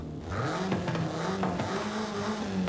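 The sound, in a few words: car engine induction growl in video game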